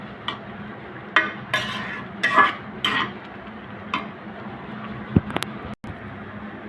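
Greens for a Sylheti dried-fish shutki dish are stirred in a cooking pot, with several short scraping and clinking strokes of a utensil against the pot, close and fairly quiet over a soft background hiss.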